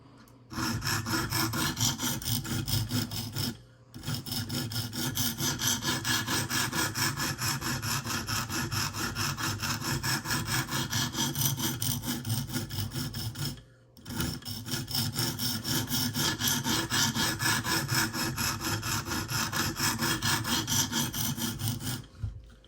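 Steady rasping strokes of a dull Smith & Wesson Extreme Ops knife blade being sharpened, continuous and close, with two brief pauses between runs of scraping.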